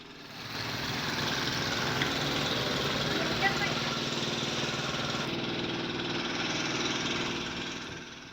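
A fire engine's motor pump runs steadily while clearing rainwater from flooded houses during heavy rain, a continuous droning engine hum at moderate level throughout.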